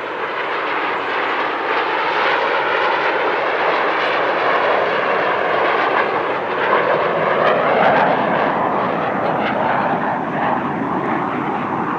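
Al Fursan Al Emarat MB-339 jets roar overhead during an airshow finale display at Dubai Airshow 2023, a sustained loud rumbling jet noise that swells and fades slightly without a break.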